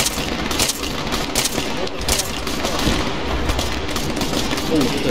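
Dense, continuous ARMA 3 battlefield gunfire, with repeated shots and bursts crackling over a steady rumble of distant combat and voices mixed in.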